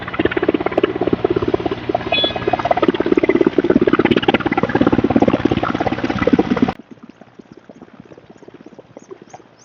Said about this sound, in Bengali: একদম মাথার উপরে হেলিকপ্টার।